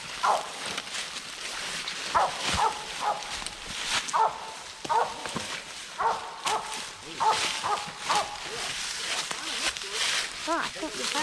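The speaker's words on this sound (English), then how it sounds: "The dogs are barking." Hunting dogs bark repeatedly in the distance during a January squirrel hunt in the woods, sharp barks recurring in an uneven rhythm, with people talking nearby over them.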